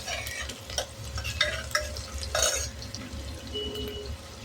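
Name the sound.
sautéing onion in a pan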